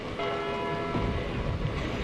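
Clock tower bells chime in the video game Deadly Premonition Origins, with sustained ringing tones over a wind-like outdoor ambience, steady and moderately loud with no talking.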